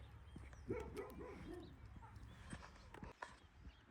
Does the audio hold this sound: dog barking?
yes